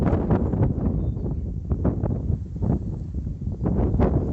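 Loud, gusty wind on a rocky ridge near Rennes-le-Château buffets the microphone with deep rumbling and irregular blasts, continuous throughout with no voices.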